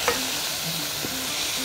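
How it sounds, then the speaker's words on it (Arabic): Rice is stirred in a pan with salt, pepper and herbs, giving a steady soft scraping sizzle with a brief clatter near the start and a faint tonal hum underneath. "ونقلب تقليبة حلوة"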